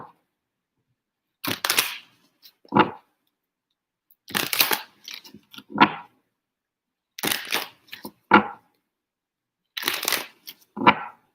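Tarot cards are shuffled in four evenly spaced rounds, each a brisk riffle followed by a sharp tap as the deck is squared, close and clear with silence between.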